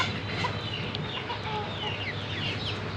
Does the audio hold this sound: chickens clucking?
yes